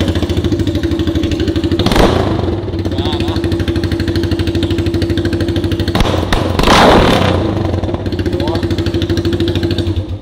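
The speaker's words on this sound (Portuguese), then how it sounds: "Vamos ver se ela faz barulho desse jeito aí" A Yamaha Ténéré 250 motorcycle with a Coyote exhaust runs loud and close, with a steady idle rumble and two brief rev surges; voices are heard under the engine.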